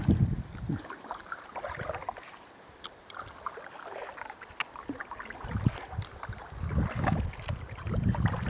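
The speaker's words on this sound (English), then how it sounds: "I love that wind on my back." Gusty wind buffets a kayak out on the water, rumbling microphone noise swelling and fading over faint paddle and water sounds, with no talk.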